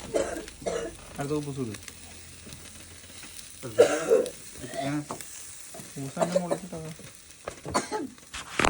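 Grilled chicken reheats on a grill with a close, steady sizzle and frying crackle running beneath intermittent talking and a cough or throat clearing.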